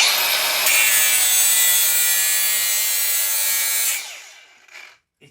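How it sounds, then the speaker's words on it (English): A power grinder biting into old steel for a grind test, a loud high-pitched continuous whine and rasp for about four seconds before spinning down and fading out. "if I do a grind test on this"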